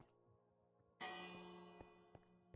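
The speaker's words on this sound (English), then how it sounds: "Just a little bell." A bell placed in Minecraft rings once, a clear sustained chime that starts sharply after a quiet moment and slowly decays, with a couple of small click-like ticks during the ring and no talk.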